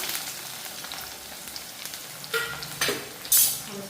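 Ginger, garlic and shallots with fenugreek go into hot oil in a pan for a fish curry. A close, steady sizzle builds, with a few sharper spattering bursts near the end.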